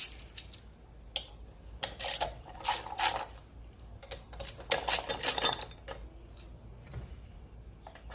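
Ratchet wrench with a number 5 Allen socket backing bolts out of a Honda Monkey 125 sprocket cover, making bursts of quick clicking ratchet strokes, fairly close and clear, with short pauses between runs.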